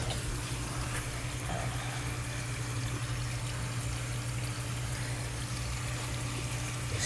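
Water from a tap runs steadily as a bleached lace wig is rinsed out, a constant splashing hiss with no pauses, fairly soft throughout.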